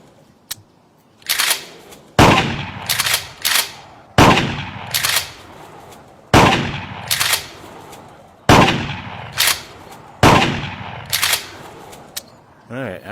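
Gunshots from a rifle fired at pop-up targets in the Clay Hunt VR shooting game ring out in sharp bursts, often several quick shots close together, with short pauses between volleys and a faint voice in places.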